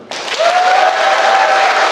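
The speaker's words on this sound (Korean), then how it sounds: "큰 박수 부탁드리겠습니다" A large hall audience of hundreds at a redevelopment briefing bursts into loud applause that starts suddenly and holds steady, with a faint sustained tone running beneath it.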